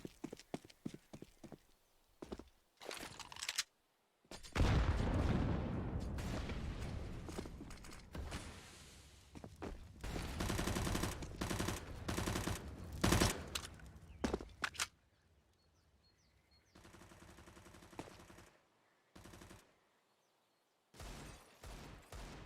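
Desert Eagle pistols fire on the Inferno map in a Counter-Strike esports match: scattered sharp cracks and bursts, with a dense cluster in the middle, mixed with footsteps and game clatter.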